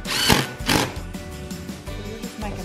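A power drill bores countersink holes for screws in a shop shelf, two loud whirring bursts followed by lower, uneven grinding and mechanical rattle close by.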